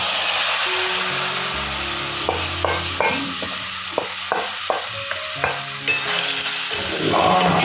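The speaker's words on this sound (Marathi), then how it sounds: "आता आपण हा जो घेतला आहे ना आंब्याचा गर सगळा ते टाकू फोडणीमध्ये." Mango pulp hits a hot asafoetida tempering in a pan, setting off a loud, steady sizzle that runs throughout, punctuated by sharp clinks and scrapes of a spoon stirring.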